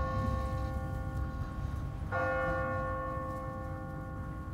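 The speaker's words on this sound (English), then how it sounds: "What kind of church bell goes off at 20 past the hour?" A church bell in The Walking Dead video game rings out automatically on a timer, a single clear struck tone with a long sustained hum. It sounds midway through over a steady low rumble of background ambience.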